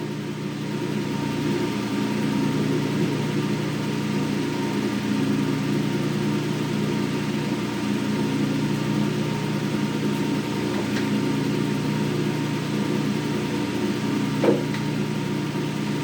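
Hendey lathe running at about 30 RPM, giving a steady low mechanical hum and drone with faint ticks and one small clunk near the end, heard alone without talk.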